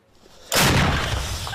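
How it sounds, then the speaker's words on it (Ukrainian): A British L119 light artillery gun fires at an outdoor frontline position near Bakhmut: one sudden loud close blast that rolls on into a sustained roaring echo, with no speech. "Це розрахунок гармати Л-119 невпинно б'є по окупантах."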